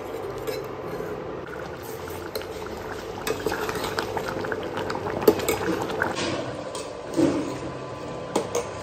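Egg curry bubbling steadily in a pot on an induction stove, a close, soft simmer with occasional louder pops and a brief clink of utensils.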